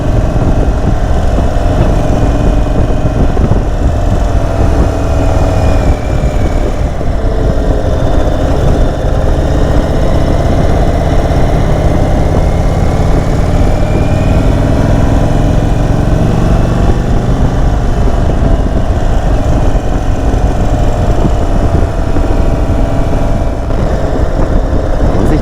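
An Indian Scout Bobber motorcycle engine with the stock exhaust rumbles loud and close, a deep steady throb with slight swells in pitch, and no talking.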